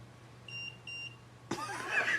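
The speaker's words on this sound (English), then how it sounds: "2 beeps for yes." Two short, clear electronic beeps with a pause between, followed by a burst of louder rustling noise.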